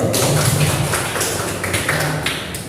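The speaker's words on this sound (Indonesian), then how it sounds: "Beri aplaus untuk temannya dulu." A classroom of students applauds a classmate, with dense, steady clapping from many hands filling the room and slowly tapering off.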